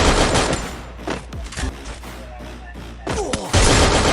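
Rapid gunfire in the mobile shooter Free Fire, with dense bursts of loud, close shots at the start and end and scattered single cracks and impacts in between.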